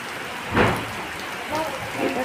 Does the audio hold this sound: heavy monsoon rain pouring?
yes